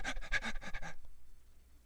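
Short, choppy panting breaths demonstrated by a person imitating panicked breathing, a rapid burst of close, loud breaths that stops abruptly, followed by near silence.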